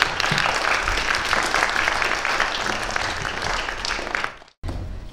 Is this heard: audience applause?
yes